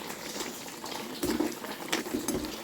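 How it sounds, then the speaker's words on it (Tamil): Mushroom gravy boils in a pot, a soft continuous bubbling and popping close by with a few louder bursts toward the end. "இப்போ நம்மளோட சூப்பரான காளான் கிரேவி ரெடி ஆகிட்டுருக்கு."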